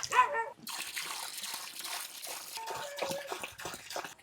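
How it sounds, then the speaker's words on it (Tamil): Liquid bio-enzyme solution, a natural alternative to urea fertiliser, is poured out in a soft, uneven trickle and splash that runs steadily for several seconds. No one speaks. "இதில் ரெண்டு லிட்டர் ஊற்றி விட்டால் போதுங்க சார்"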